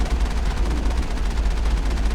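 The player's gun firing in Mass Effect, a fast, steady stream of rhythmic shots, loud and close, continuing without pause throughout.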